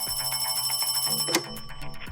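A telephone bell rings in a rapid trill, then breaks off with a click as the call begins. The ring is faint and sounds slightly muffled.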